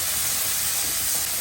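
Green chillies and onions frying in a pan with a little salt, a steady close hiss and sizzle, continuous with no pauses.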